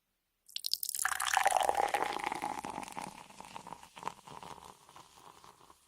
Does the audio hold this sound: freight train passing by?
no